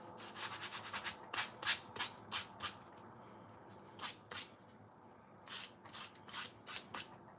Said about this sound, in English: I'm going to go and use my sanding block for that.